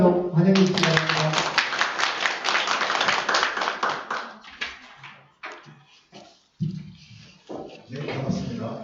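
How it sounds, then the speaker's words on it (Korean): Crowd of audience members clapping to welcome a Buddhist monk lecturer at an academy session, a dense burst of applause that thins into scattered claps and soft murmuring near the end. "우리 스님 박수로 좀 환영해 주시기 바랍니다."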